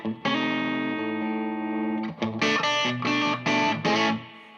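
Electric guitar played straight into an amp using the amp's reverb, no pedals: a long ringing chord, then several short strummed chords with lingering echo tails, no voices.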